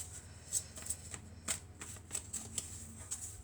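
Oracle cards are shuffled and cut close by: soft papery riffles and sharp little slaps repeating irregularly, quiet and alone with no voice.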